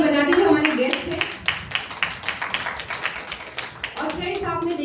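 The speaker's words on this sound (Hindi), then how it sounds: "इनके लिए एक बार तालियां बजा दीजिए" Guests at a home meeting are welcomed by a patter of audience clapping, moderately loud and uneven, in the middle of the moment, with a voice talking before and after.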